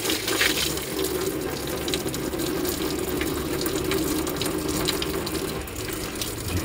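Coolant drains from a Jeep Wrangler JK radiator hose, a steady close splashing pour of liquid running continuously into a container.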